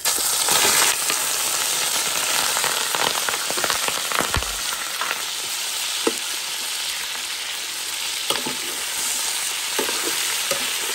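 Chicken for massalé poulet sizzling and frying in a very hot pot, a steady loud crackling hiss with bursts of spattering and occasional stirring clicks throughout.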